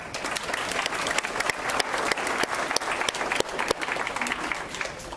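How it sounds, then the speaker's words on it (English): A school audience of families and supporters applauds a student at a recognition event, continuous crowd clapping with sharp individual claps standing out throughout. "Jeffrey, you got 3 rounds of applause."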